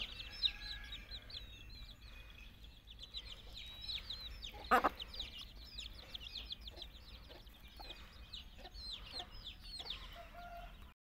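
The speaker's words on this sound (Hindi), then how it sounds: "ये असील नस्ल का मुर्गा है और माशाल्लाह से बहुत ही खूबसूरत मुर्गा है" Aseel rooster and its chicks: many soft, high peeping calls from the chicks repeat throughout, with low clucking and one brief louder squawk midway, all fairly quiet and close.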